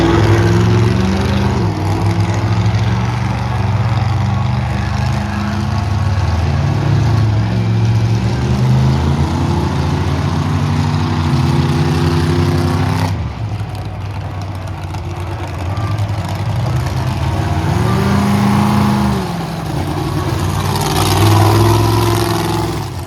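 A monster truck engine rumbles and idles at an outdoor monster truck show, loud and close, with its low throb shifting through revs and a brief dip midway before rising again.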